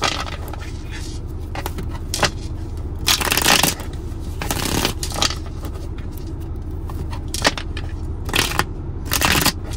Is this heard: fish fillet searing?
no